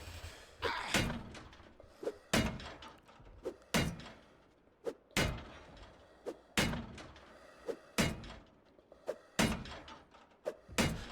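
Repeated heavy thuds and bangs of a door being forced open in Project Zomboid, about a dozen sharp loud impacts at irregular intervals roughly a second apart, with rustling between hits.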